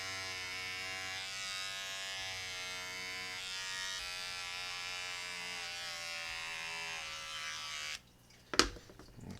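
Electric shaver shaving fur from a rabbit hide, a steady close buzzing hum held for about eight seconds before it cuts off, followed by a brief handling rustle and knock.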